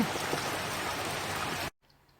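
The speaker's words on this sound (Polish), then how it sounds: "Padało dość długo, można powiedzieć z dwie godziny." Steady rain pours down outdoors over a garden after about two hours of falling, a dense, even hiss of drops that continues without a break and then cuts off abruptly.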